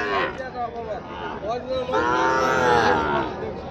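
Sahiwal cattle at a border-area cattle market giving a long, loud moo close by, with people talking in the background.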